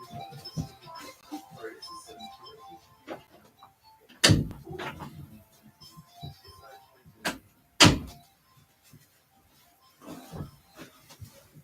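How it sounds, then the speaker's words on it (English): A door being shut indoors, heard as two sharp, loud thuds a few seconds apart over a quiet room with faint shuffling and small knocks around them. "Let me shut the door here."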